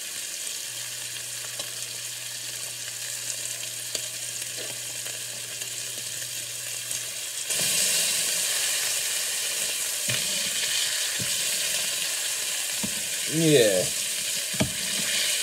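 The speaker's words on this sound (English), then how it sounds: "Gonna cook that bacon." Bacon sizzles and crackles steadily in a pan for a bacon, egg and cheese sandwich, the frying growing louder midway, with a brief spoken word and a few clinks over it.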